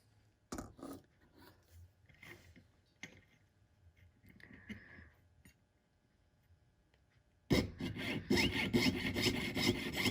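Sawing through a workpiece during jewelry pave stone setting, with a few sharp separate rasping strokes and quiet scraping at first, then a sudden run of rapid, louder back-and-forth strokes near the end.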